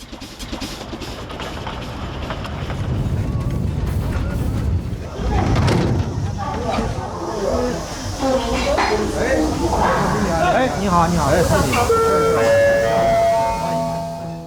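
Small Jiayang steam train hissing and running, with chuffing, rumbling rail noise and shrill whistle-like tones over roughly fourteen seconds, while a voice talks over it.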